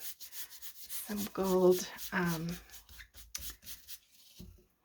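Distress ink is rubbed onto altered journal signature pages, a soft, close scrubbing and brushing sound that comes and goes in short strokes while a person talks quietly over parts of it.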